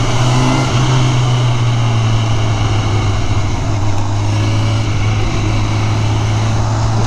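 A new Honda motorcycle with fresh tires and only two miles on it accelerates while being ridden, giving a loud steady engine drone with a rising tone amid constant wind rush.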